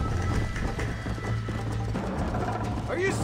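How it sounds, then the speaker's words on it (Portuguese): Horse hooves clip-clopping at a run in the Red Dead Redemption video game, a steady rhythmic beat mixed with game audio and other sounds, with a short whinny-like cry near the end. "Na hora que o cavalo começa a reclamar, só parar de correr."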